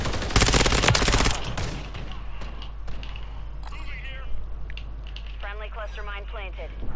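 Rapid SMG fire from an ISO 9mm in Call of Duty: Modern Warfare III, a loud burst of automatic shots up front, then a few quieter shots and game effects while a player talks over them.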